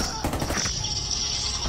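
Rapid gunfire bursts in Rainbow Six Siege, a quick cluster of shots near the start that fades into a steady background hum, with a voice faintly present.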